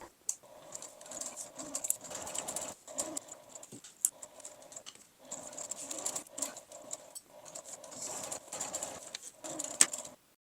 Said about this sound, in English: Lengthening my stitch length and basting the two together.